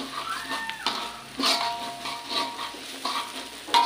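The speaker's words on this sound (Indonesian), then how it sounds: "Tumis sampai harum." Shallots and garlic sauté in a hot pan for an Indonesian salted squid dish, with a steady close sizzle and intermittent stirring scrapes, no voices.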